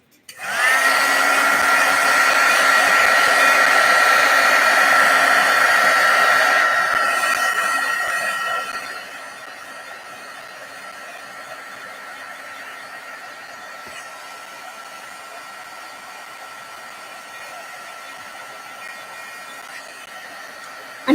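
A hair dryer blows loudly and steadily at close range while drying a craft project, then drops to a quieter, lower setting that runs on to the end.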